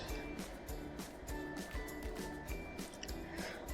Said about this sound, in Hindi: फिर डालेंगे ज़रूरत के हिसाब का ऑयल।